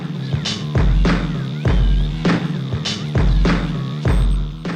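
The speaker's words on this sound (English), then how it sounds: "These drums are like from a B-boy break" Sampled B-boy break drums play a looping pattern of punchy kicks and crisp snare hits in a steady hip-hop groove, loud and upfront with no talking.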